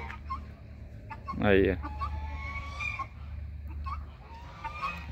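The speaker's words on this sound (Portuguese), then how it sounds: "Minhas galinhas de Angola." Backyard guinea fowl give a short, harsh burst of calling among faint clucks, while someone speaks a few words nearby.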